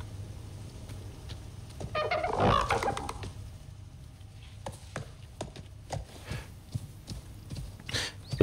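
Horse hooves clip-clopping in the survival video game Icarus, a burst of clattering steps followed by scattered softer thuds, fairly quiet with little else around.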